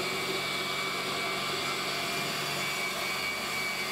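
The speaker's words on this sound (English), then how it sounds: "External compressor." The external compressor of a five-ton tube ice machine runs with a steady, even mechanical whir and hum, a constant close drone with no pauses or voices.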